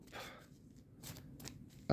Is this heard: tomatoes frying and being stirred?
no